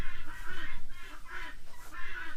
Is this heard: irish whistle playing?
no